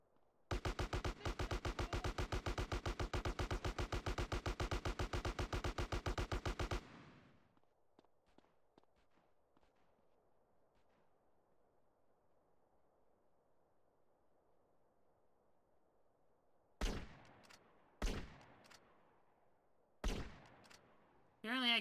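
Rapid automatic rifle fire in a video game rattles loudly for about six seconds, then a near-silent stretch gives way to a few sharp single shots toward the end.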